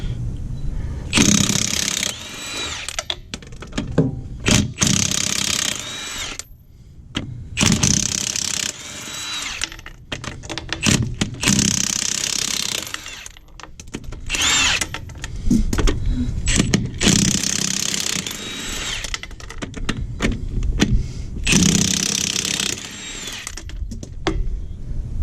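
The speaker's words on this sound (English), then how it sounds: "So let's bust the wheels off. And the Milwaukee impact." Milwaukee impact wrench removing the wheels from a Ford Super Duty truck, using a 7/8 socket: loud repeated bursts of rapid hammering, each a few seconds long with short pauses between, close up.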